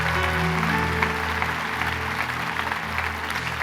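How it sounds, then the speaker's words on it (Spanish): A church congregation claps together in sustained, fairly loud applause that holds steady throughout, with no voices rising above it. "Le damos un aplauso al Señor."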